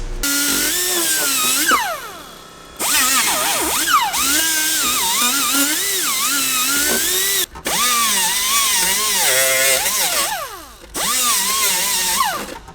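Drill enlarging and ovalizing mounting holes to fit a brake booster, heard close up as several long whining runs whose pitch climbs and dips under load, separated by short pauses.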